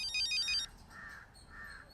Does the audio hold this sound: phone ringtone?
yes